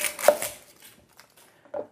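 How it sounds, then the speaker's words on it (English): A knife slices an onion in half on a cutting board, giving a few short, close cuts with a sharp first stroke and a softer one near the end amid quiet pauses. "I'm just going to cut this onion in half."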